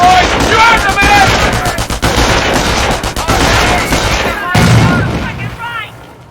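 Game combat from Company of Heroes with repeated automatic bursts from a German MG-42 machine gun team, mixed with booming impacts and battle noise, loud and sustained, with voices and harmonic shouts layered over it.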